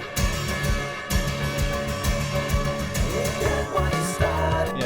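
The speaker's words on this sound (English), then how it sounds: "it's a plectrum just scraping across the strings, and I added loads of echo to it" A guitar pick scrapes across the strings, drenched in heavy echo, inside a dense mix of repeating low tones and sweeping metallic smears that pulse in a steady rhythm, loud and continuous for several seconds.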